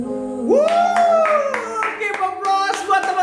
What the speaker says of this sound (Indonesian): Give applause buat teman-teman semua yang ada di rumah.